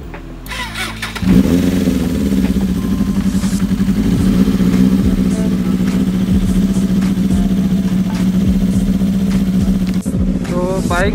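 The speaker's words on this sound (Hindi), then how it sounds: "अब हम अपनी बाइक ले लें, बल्कि थोड़ी सी स्टार्ट करके आपको दिखाते भी" A motorcycle engine cranks and catches, then settles into a loud, close, throbbing idle with occasional revs; a brief voice and clatter near the end.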